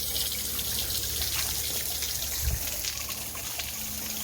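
Steady spray of water streaming from several splash pad nozzles on a rain deck, a continuous even hiss with light trickling and dripping, with no voices.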